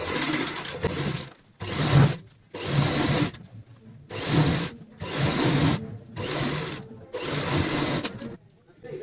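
A sewing machine stitches a zipper onto a cloth purse made from old fabric, running in about six loud bursts of steady whirring separated by short pauses, with a voice talking between runs.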